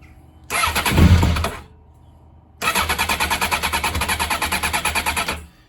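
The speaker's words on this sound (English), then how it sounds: "just spin the engine a little bit to pick up the oil" A 1996 Honda CBR900RR Fireblade (SC33) sport motorcycle is cranked close up with no choke. A first starter burst lasts about a second, then a longer stretch of rhythmic cranking pulses sounds for about three seconds without the engine catching.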